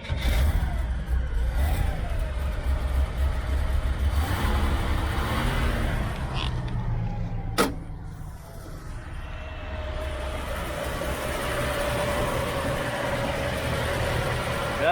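A 1972 Chevy Nova engine runs steadily with a low rumbling idle and occasional revs, a sharp click midway, continuing evenly to the end without talking.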